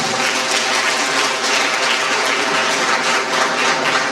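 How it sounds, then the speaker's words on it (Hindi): A college hall audience applauds at an annual function and prize ceremony, a dense, continuous wash of clapping that holds steady and loud from start to end. "तालियों की गड़गड़ाहट से पूरा हॉल गूंज जाना चाहिए"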